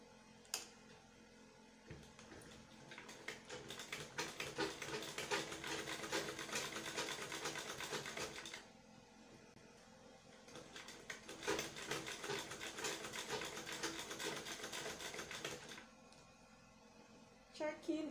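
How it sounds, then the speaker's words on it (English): A sewing machine runs in two long, steady stitching passes along the edges of a fabric tote bag's shoulder strap, with a short pause between them. It whirs softly, and a voice talks over it. "we are going to sew it along this edge and along this edge"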